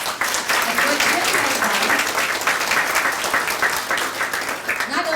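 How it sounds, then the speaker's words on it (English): Audience applause at an Optimist Club gathering honoring a volunteer, a dense steady wash of many hands clapping that fills the room for several seconds with faint voices mixed in. "Can we give a Jim round of applause?"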